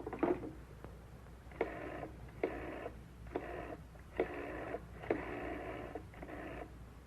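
Telephone dialed in an old radio drama, a series of about seven short mechanical whirring bursts, evenly spaced and moderately close, heard alone over a faint hiss.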